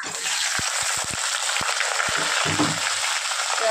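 Hilsa fish heads frying in hot oil, a steady close hiss of sizzling with a few brief clicks and a bubbling burst near the end.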